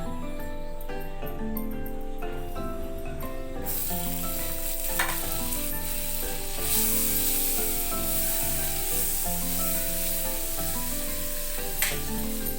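Paneer sizzles steadily in butter in a frying pan, a continuous loud hiss that brightens partway through, with faint clinks and no talking.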